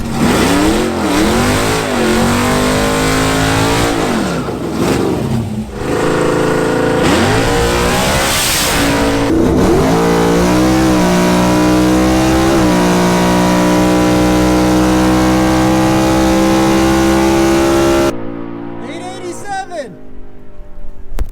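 A drag racing car's engine roars and revs hard as it launches, climbing through gears in repeated rising sweeps, loud and close, then cuts off abruptly near the end.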